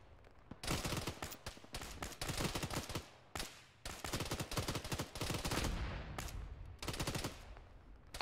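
Video game gunfire aimed at infantry in a ShackTac session, sounding as dense, loud automatic bursts with brief pauses between volleys and no talking.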